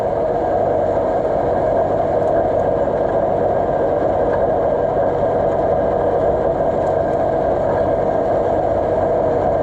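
A 1936 John Deere A tractor engine runs steadily, a loud continuous rumbling drone with no break and no voices.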